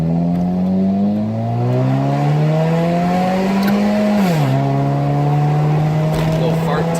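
Car exhaust fitted with a Bud Light can, a loud, steady engine drone climbing under acceleration, then a pitch drop as it shifts, with a buzzy, tinny rasp throughout.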